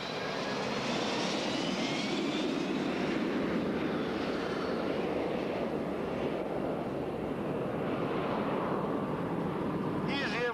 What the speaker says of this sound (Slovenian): Letalo v tem trenutku hitro približno 200-220 km/h, kar je pristajalna hitrost tega letala.